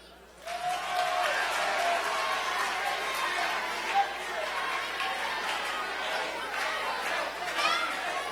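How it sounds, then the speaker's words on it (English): A large crowd of children and adults applauds a ventriloquist's puppet at a live event, with a sustained roar of clapping mixed with excited chatter and shouts. "Clap your hands, please, for Shmendrik"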